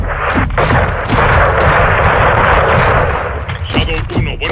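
In the video game Cartel Las Almas, a 40 mm grenade launcher fires, with heavy booming blasts and a sustained roar of explosive rumble, followed by sharp distinct cracks near the end.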